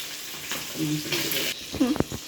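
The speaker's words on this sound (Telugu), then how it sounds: "ఇక్కడ పైన ఆయిల్ వేడి వేడి ఆయిల్ పోస్తానికి ఈ సైడ్ కూడా ఉడుకుతూ ఉంటుంది" Fish frying in hot oil for a Telugu fish fry, a faint crackling sizzle with brief pops, partly under a woman's speech.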